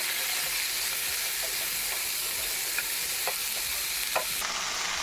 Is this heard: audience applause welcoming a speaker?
no